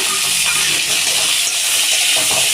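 Loud, steady sizzling of chopped small onions and eggplant frying in hot oil, a continuous crackling hiss up close.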